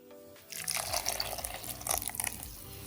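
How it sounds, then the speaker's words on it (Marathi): Kokum water poured close by into a bowl of grated coconut, a steady wet splashing that starts suddenly and runs for a couple of seconds. "मी हे जे कोकमचं पाणी केलं होतं ते घालतीये"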